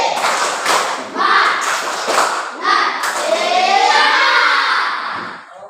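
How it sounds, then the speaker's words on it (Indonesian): A classroom of children doing a rhythmic spirit clap, tepuk semangat, with a patterned series of sharp claps and shouted chanting voices, loud and close, ending as a teacher's voice fades out. "Tepuk semangat"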